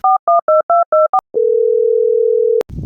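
Telephone line tones during a call: a quick series of six short, evenly spaced beeps, then one long steady tone lasting over a second, ending with a sharp click and brief noise. No voices.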